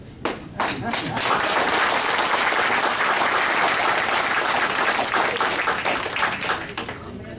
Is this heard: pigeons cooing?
no